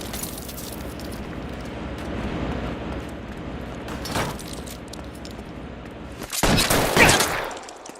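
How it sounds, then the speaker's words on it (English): Shootout gunfire in the video game L.A. Noire: a low rumbling backdrop gives way to a single sharp crack, then a dense, loud burst of rapid shots near the end. "Keep shooting!"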